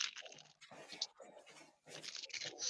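Saltine crackers are crunched close up, with bursts of crisp crackling bites separated by short pauses. The sound is fairly quiet.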